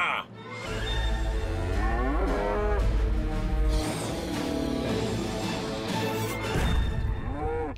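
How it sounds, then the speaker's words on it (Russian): A cartoon robot cow lets out a long, loud, electronically warped moo with wavering metallic pitch, followed by a crash and more distorted mooing and whirring effects. "Это корова. Робокорова!"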